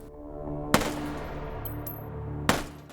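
Two sharp single gunshots from a rifle in the H3VR virtual-reality shooting game crack out about two seconds apart over a steady low hum, each with a short fading tail.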